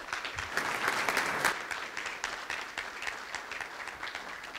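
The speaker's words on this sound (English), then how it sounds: "Let's give a round of applause for them." A conference audience applauds a group of developers, a moderate, fairly distant round of clapping that swells briefly then settles into a softer, thinning patter.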